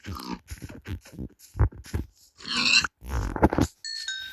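A pig in the Minecraft video game gives several short, close grunts in quick succession, followed by a brief tonal chime.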